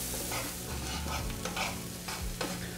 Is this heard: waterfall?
no